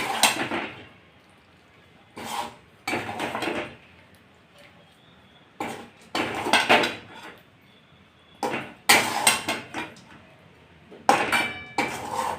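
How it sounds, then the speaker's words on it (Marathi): Cooked guava vegetable with karale seeds is spooned from a pan onto a plate, giving a series of separate clattering scrapes and clinks of a utensil against metal and crockery, with quiet pauses in between. "आता भाजी आपण एका प्लेटमध्ये काढून घेऊया।"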